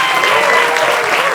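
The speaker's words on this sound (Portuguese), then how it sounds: "uma salva de palmas para Aida Gomes!" A crowd claps for writer Aida Gomes at a panel event, a brief burst of dense, even applause sustained throughout without a break.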